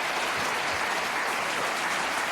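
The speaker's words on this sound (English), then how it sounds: "People always applaud that." Studio audience at a late-night television talk show bursting into dense, sustained applause. Many hands clap at once in a loud, even wash that fills the whole stretch, with no voices standing out.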